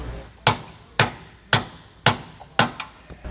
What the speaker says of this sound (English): We're going to have to hammer it in so that those teeth bite into our hanger.